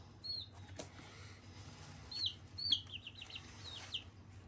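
Young chicks in a brooder give thin, high peeps and chirps in short clusters, fairly close over a low steady hum, with a few faint rustles and flutters.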